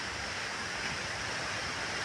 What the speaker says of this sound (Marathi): आज दोन दिवसांनी समुद्रावर आलेलो आहे